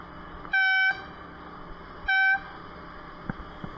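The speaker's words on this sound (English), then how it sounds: "First, he gets honked at, but honking alone ain't stupid enough" Car horn honking at a cyclist on the road, two separate medium-length blasts about a second and a half apart, clear and fairly close over low traffic rumble.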